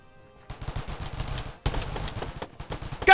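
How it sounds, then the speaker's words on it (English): Gunfire in a Minecraft battle: two stretches of rapid, rattling shots, the first after a half-second pause and the second following a brief silence, loud and close. "There's a lot of shooting going on around here."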